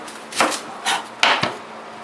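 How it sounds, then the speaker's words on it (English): A knife cuts through an onion on a cutting board in four crisp, separate chops spaced about half a second apart, close and clear, with no talk. "I'm going to cut up some onions here from my caramelized onions"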